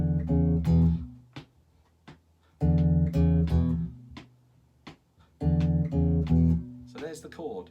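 An electric bass plays E dominant 7th chord tones in three short phrases, with separated plucked notes that ring and stop between bursts of near silence.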